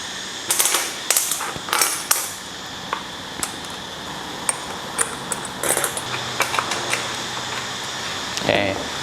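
Metal nut being fitted onto the bar of a WASABI WAB-CS52G chainsaw, heard as a run of sharp clicks, taps and metallic pings at close range, irregular and moderately loud.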